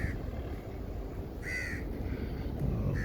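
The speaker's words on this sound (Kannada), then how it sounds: "ಇಲ್ಲಿ ನೋಡಿ, ಕಾಗೆ ಕೂಗುವಂಥ ಶಬ್ದ ಕೂಡ ಕೇಳ್ತಾ ಇದೆ." Crow calls ring out outdoors in Dubai on a hot afternoon: two or three harsh caws at a moderate distance, repeating at irregular intervals over a constant low wind and traffic-like rumble.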